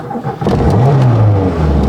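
A Citroën Visa GTI engine revs up close and pulls away, the note rising and falling through a short burst, loud and alone without talk.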